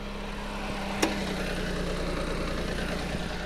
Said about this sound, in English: I wonder if this is a solid lifter engine. Kind of sounds like it.